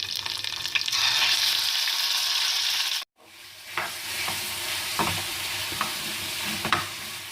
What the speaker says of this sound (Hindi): अब मैं इसके अंदर चिकन डाल दूँगी।